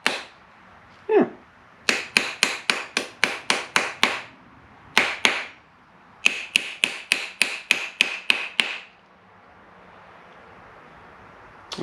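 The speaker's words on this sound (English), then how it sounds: "we're going to hammer our way. Hammer down onto your little mandrel piece here" Metal spoon ring struck with a hammer on a steel mandrel, a loud close series of sharp rhythmic taps in three bursts of about eight blows each, separated by brief pauses.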